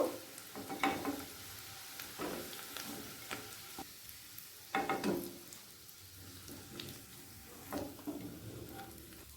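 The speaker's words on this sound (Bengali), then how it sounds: "সামান্য গরম মশলা গুঁড়ো দিয়ে পেঁয়াজটাকে ছেড়ে দিলাম" Onion fries quietly in a little oil with a pinch of ground garam masala, a soft sizzle punctuated by occasional clinks and scrapes of stirring in the pan.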